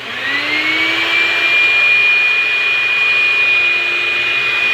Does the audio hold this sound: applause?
no